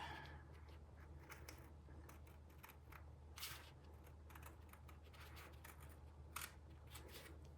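Excess paper trimmed off the edge of a scrapbook layout, a series of faint, brief snipping and scraping cuts scattered over a quiet room hum.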